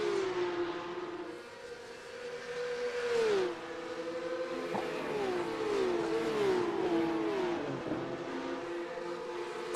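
Porsche Cup race cars roar around Circuit de la Sarthe in a racing video game, with several engines whining and shifting pitch up and down as they pass and accelerate, loud and continuous.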